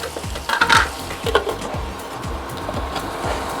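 Potatoes, bitter gourd and fish roe fry in oil with salt and turmeric. A spatula scrapes the pan in a steady run of rhythmic strokes over a low sizzle, with a couple of louder clanks early on.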